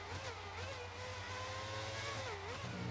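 A Formula One car in the F1 2019 video game at Paul Ricard drones at high revs, its engine pitch rising and dipping through gear changes, steady and moderately faint.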